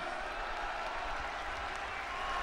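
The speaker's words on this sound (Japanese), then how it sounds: "大きな拍手お願いします" Stadium crowd applauds steadily for a pitcher stepping up to a post-game hero interview at a Chiba Lotte baseball game, a dense continuous roar of clapping held at a constant level throughout.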